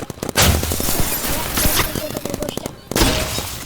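Rapid bursts of gunfire from a paintball video game, dense and loud, with overlapping shots and fusillades that fill the clip, a brief lull near the end before firing resumes.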